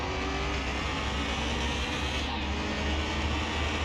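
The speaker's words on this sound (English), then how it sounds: "Okay, let's do one with revving it." A car engine revving in the game Car Mechanic Simulator 2021, a loud, dense roar that holds at full volume and stays steady for the whole stretch, with no talk.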